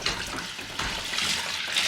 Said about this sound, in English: But first we pour the milk in the pot.